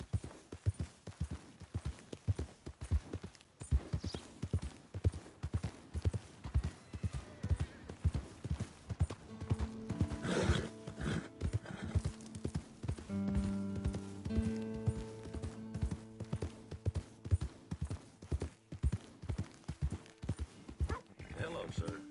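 Steady rhythmic clip-clop of horse hooves at a walking pace in the video game Red Dead Redemption 2, with a short snort and soft background music partway through.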